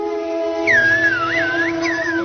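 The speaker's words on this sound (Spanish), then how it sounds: "¿Y de dónde aprendieron los guanches a comunicarse con el lenguaje de los silbidos?" The whistled language of Saharan nomads and shepherds: one clear, sliding and warbling whistle phrase carried over a sustained musical drone.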